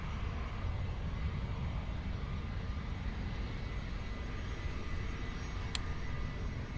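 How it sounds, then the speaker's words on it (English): Singapore Airlines Airbus A350 jet lining up for takeoff at Munich, a steady low engine rumble with broadband roar held at an even level throughout, distant and continuous. "A350 lining up."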